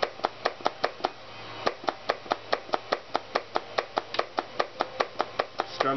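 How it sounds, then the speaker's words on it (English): Rapid plastic clicks from a Rock Band guitar controller's strum bar ring out close and crisp in a steady rhythm, one short pause in the middle, with no talking. "Strum through all these hammer ons here."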